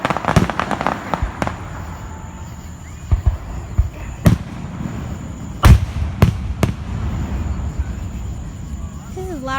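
Fourth of July fireworks explode in a series of sharp, loud bangs, some close and some farther off, irregularly spaced with crackling and a low background rumble, while people talk quietly nearby.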